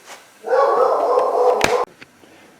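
A dog barks once in a sustained, loud close-up bark lasting over a second, followed by a faint brief yip, heard alone without talk.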